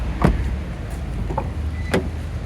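A 2011 Mitsubishi i-MiEV's electric window motor whirs in short bursts inside the small car, several brief close clicks and hums over a quiet cabin background.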